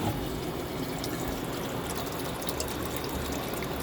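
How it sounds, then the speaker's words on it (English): Water pours steadily into engine cooling hoses that have been cut open for filling, a continuous close splashing and trickling wash running the whole time with no talk over it. "That's just where I cut the hoses and fill the water."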